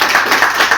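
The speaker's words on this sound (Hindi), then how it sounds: "सब एक बार जोरदार तालियों से बच्चों का स्वागत करें" An audience applauding loudly to welcome students at an education institute's results celebration, a brief dense burst of clapping heard alone.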